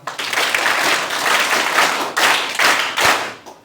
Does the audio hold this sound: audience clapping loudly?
yes